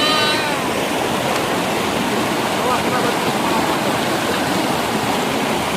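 Steady broadband rush of a river flowing beside a riverbank in the wilds of Sidomulyo, North Aceh, a continuous close wash of water with no breaks, heard while walking along the bank.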